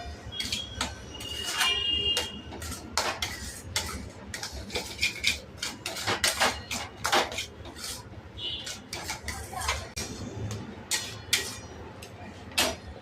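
A metal spatula scrapes and clatters against a pan while egg bhurji is stirred at a street-cart stall. The irregular, sharp clinks come close together, with background noise underneath.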